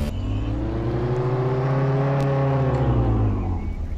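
A motorcycle engine in a video game revs with a tonal whine that climbs, holds and then drops, close and steady throughout with no voices.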